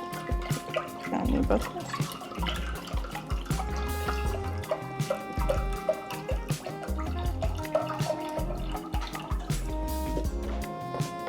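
Cartons of organic broth pour into a soup pot for a low-carb Italian honeymoon soup, a steady liquid splash under background music while a person talks.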